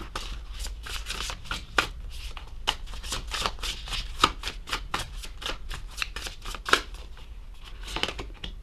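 Tarot cards are shuffled and drawn during a Sagittarius reading: a rapid run of crisp riffling snaps and flicks close to the mic, steady and dense, with no speech.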